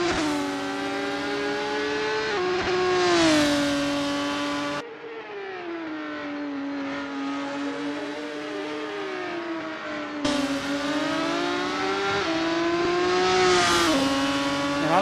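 Race cars in a GP3 racing video game at the Bahrain GP howl past at high revs, their engine notes rising and falling continuously through gear changes and steady throttle.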